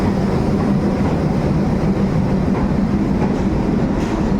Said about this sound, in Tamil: பெங்களூர் அது பெங்களூரோட ட்ரெயின் அது